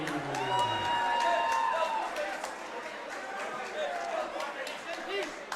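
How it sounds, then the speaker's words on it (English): At a hybrid boxing league event, an arena crowd applauds and cheers for fighter Ryan Bradley, a broad wash of clapping and chatter beneath an announcer's amplified voice. "please, a big round of applause for Ryan Bradley."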